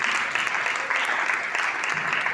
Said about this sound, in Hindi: ताली मारेंगे